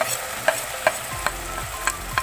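Spices fry in oil for rohu fish kalia, with a steady sizzle broken by sharp, evenly spaced clicks of a spatula stirring against the pan, close and clear with no talk.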